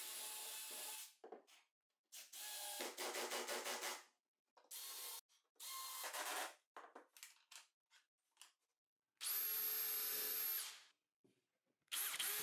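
Short bursts of power drilling into plywood cabinet sides, using existing holes as guides, in a workshop; several separate runs of a few seconds each with silent gaps between, fairly close.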